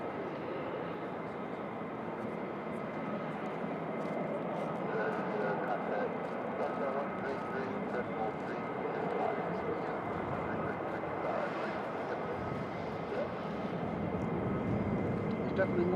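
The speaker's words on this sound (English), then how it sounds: "I hear more F-15s again." F-15 fighter jets near RAF Lakenheath produce a steady, distant broadband jet roar that swells slightly and holds throughout, with faint talk in the background.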